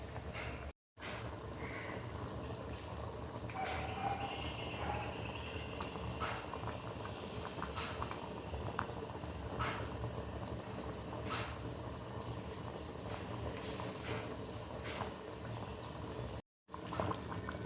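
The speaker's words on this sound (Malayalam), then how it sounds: "അപ്പോൾ കണ്ടോ, നന്നായിട്ട് തിളച്ച് വന്നു." Curry boils in a pot with continuous soft bubbling and popping, a close, fairly quiet simmer broken by two brief silent dropouts.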